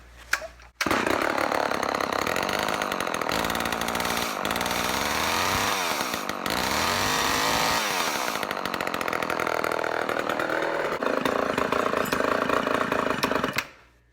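Homelite XL12 chainsaw engine started up close and running loudly for over twelve seconds, its raspy two-stroke roar rising and falling with throttle changes before cutting off.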